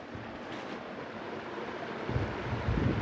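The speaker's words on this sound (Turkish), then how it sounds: "Yani şöyle buraya şelale diyorlar." A small waterfall with some overflowing water runs outdoors as a steady rushing hiss with a low roar, swelling a little louder toward the end, and no voices.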